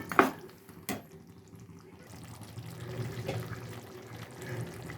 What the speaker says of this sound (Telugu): మిక్సీ కడిగిన నీళ్ళు కూడా పోసేద్దాం ఫ్రెండ్స్